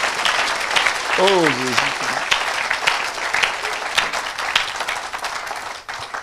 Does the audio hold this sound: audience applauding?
yes